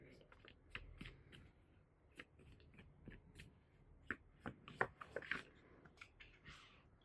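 Tarot-style cards shuffled and drawn during a reading, giving quiet papery flicks and snaps in an irregular run, close and soft, with a few louder riffles toward the end.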